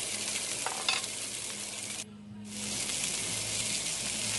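USDA prime rib eye steaks sear in a hot cast iron pan, giving a steady loud sizzle that briefly drops away when the meat is lifted and flipped, then resumes.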